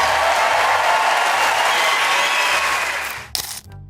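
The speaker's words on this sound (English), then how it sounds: "The crowd roars because clarity beats censorship every time." Large live audience roaring and applauding after a comedy set, a dense, loud wash of clapping and cheering that holds steady, then thins out near the end.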